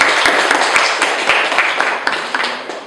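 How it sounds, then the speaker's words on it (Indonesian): Classroom applause for a student group after their presentation, a steady wash of many hands clapping together for a few seconds, close and fairly loud, with no talking over it. "Ya, tepuk tangan untuk kelompok 1."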